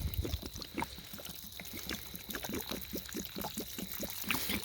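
Plain water is poured onto a struggling potted plant at a bush camp, making a quiet, uneven series of small splashes and trickles with no speech.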